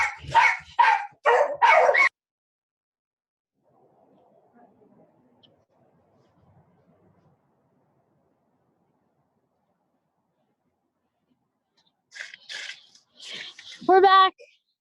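Dogs bark in short bursts, close and loud, then quiet, then bark again with a yipping, whining cry near the end, mixed with people talking.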